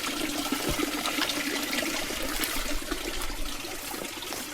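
Running water beside a hiking trail on the way to Beaver Lake near Sitka, Alaska, a continuous close rushing and trickling stream sound that holds steady throughout with no voices.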